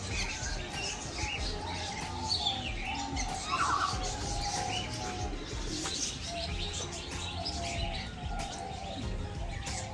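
Busy chorus of small birds chirping and tweeting continuously in a zoo aviary, with occasional coos, over a steady background hum.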